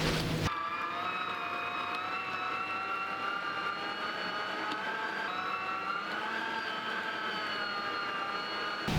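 An electric meat grinder minces chopped lamb with a continuous, close whining motor hum that holds a steady pitch throughout.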